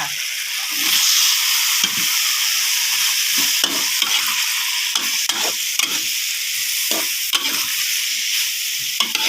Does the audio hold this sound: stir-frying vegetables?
yes